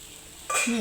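Bread frying in a pan for a breakfast recipe: after a quiet start, a loud, close sizzle bursts in about halfway through and carries on to the end, with no talking.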